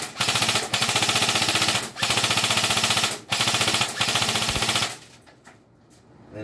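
A Krytac Trident MK11 SPR airsoft rifle fires full auto indoors in three loud, rapid bursts with short breaks between them, then falls quiet.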